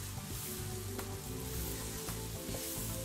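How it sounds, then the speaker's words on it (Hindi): Masala spices with crushed cumin frying in a pan for creamy chicken karahi, a steady close sizzle with faint crackles running the whole time, no voices. "देन आप इसको अच्छे से भूनेंगे, मतलब मसाले को"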